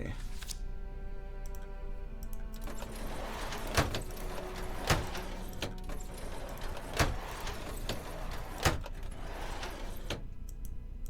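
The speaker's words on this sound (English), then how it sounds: "Be like drawer opening sounds." A few sharp wooden clunks and clicks from drawers being opened in the Howler Asylum demo game, spaced a second or two apart, sound over a quiet ambient hum while someone speaks.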